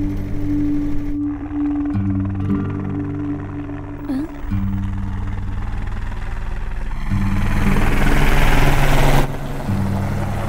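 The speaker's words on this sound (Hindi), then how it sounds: "भैया वो देखो हेलीकॉप्टर।" A helicopter flies overhead in a dubbed South Indian action film, its low, droning rotor hum sustained throughout. Tonal engine whine shifts partway through, and a harsher, louder wash builds before cutting off near the end.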